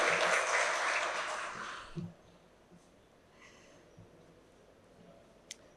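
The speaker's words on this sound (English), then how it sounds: "A huge round of applause to her." An audience at a talk on laws for women's safety gives a round of applause that rings out for about two seconds and then stops abruptly, leaving quiet room noise with a faint breath and a small knock.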